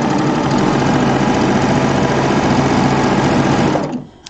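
A serger overlock machine stitches fabric for a quilting test sew, a steady, loud, fast mechanical whir running continuously for about four seconds before winding down and stopping abruptly near the end, with no talking.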